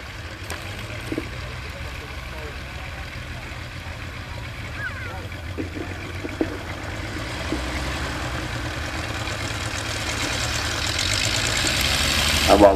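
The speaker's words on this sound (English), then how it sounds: "And you see Dodge will be taxiing quite carefully in this machine." A DH88 Grosvenor House vintage racing aircraft idles as it taxis carefully at an airfield. The low engine rumble is steady and moderately loud, with brief knocks, and commentary runs over it.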